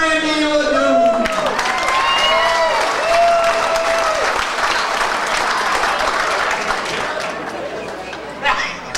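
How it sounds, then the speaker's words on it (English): An audience at a motorsport awards banquet applauds a driver being honored, with a sustained crowd clap and chatter under an announcer's voice. "you gotta give him a big round of applause"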